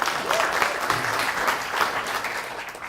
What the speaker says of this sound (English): let's have a big round of applause for you guys